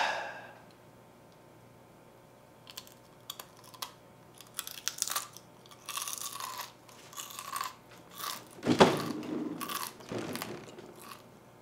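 Crunching and chewing while eating a zebra tarantula, close and loud irregular crunches and bites in quick bursts, growing heavier toward the end, with no talking.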